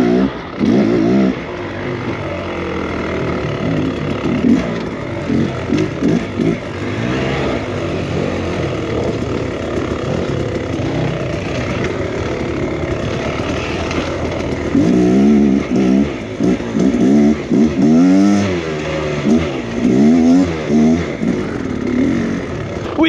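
Beta X Trainer dirt bike revving hard through a burnout on a misty, wet trail, engine note rising and falling in loud, near, sustained bursts that peak toward the end.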